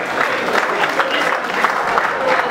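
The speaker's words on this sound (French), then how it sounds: "Applaudissements s'il vous plaît." Audience applause at a live performance, a steady wash of many hands clapping, moderately loud and continuous through the short stretch.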